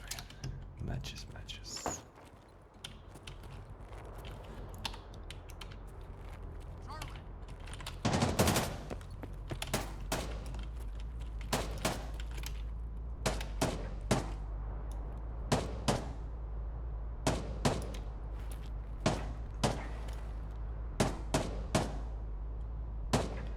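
Gunshots ring out during a firefight in Escape from Tarkov, with sharp single shots and short bursts scattered over a quiet background. A loud, dense volley comes near the middle, followed by regular spaced cracks.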